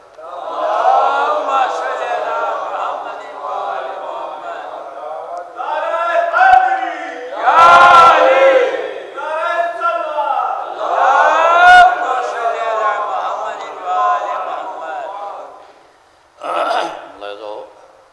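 An audience at a Shia majlis-e-marsiya khwani in Lucknow calls out salawat together in a loud collective chant, rising and falling in waves, with a brief pause and a final short burst near the end.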